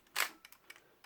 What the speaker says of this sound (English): It's got a nice, smooth and quiet shutter sound.